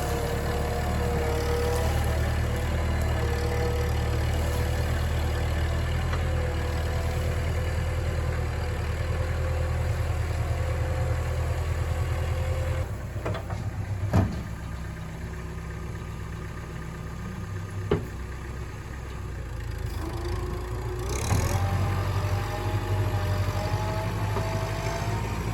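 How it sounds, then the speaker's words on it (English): A tractor engine runs steadily while its bucket tip is pressed down to smash gravel into the ground at a washed-out creek crossing. The loud, low drone is continuous, with a few sharp knocks and scrapes near the middle. "I'm putting the weight of the tractor on that very tip and smashing this gravel into the ground."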